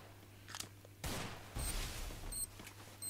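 Rapid gunfire in the Free Fire battle game, including a Thompson submachine gun, comes as several dense bursts of shots at close range with short pauses between them.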